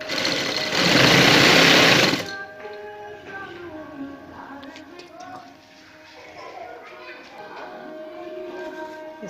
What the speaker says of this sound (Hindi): साथ सिलाई लगाते जाएंगे।